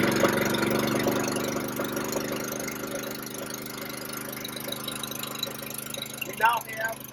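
A brush truck's small pump engine runs steadily at a low, even idle, close by and fairly constant throughout, with a brief uneven flutter near the end.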